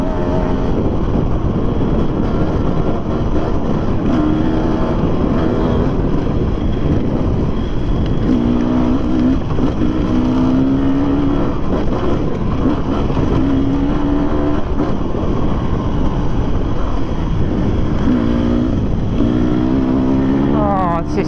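An enduro motorcycle rides a trail, its engine droning loud and close throughout with rising and falling revs as gears change. The rider's voice comes through intermittently over the engine noise.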